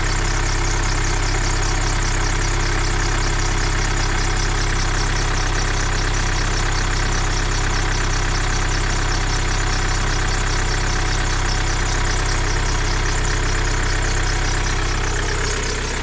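A 2010 Kia Sportage engine idles steadily and loudly, a continuous even drone with a faint rhythmic throb and no voices over it.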